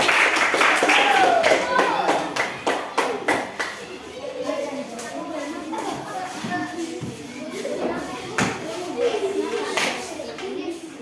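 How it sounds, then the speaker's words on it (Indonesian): Schoolchildren in an Indonesian classroom clap in quick rhythmic bursts for a group during a food-chain lesson, the claps loud at first and then giving way to children's chatter and an adult's voice. "Oke, tepuk tangan untuk kelompok."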